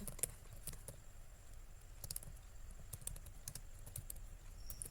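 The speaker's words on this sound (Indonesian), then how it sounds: "dikonfig kita ketikkan" Keys clatter on a computer keyboard while a site-to-site VPN configuration is typed, a quick irregular run of close, light clicks at low level with no talk.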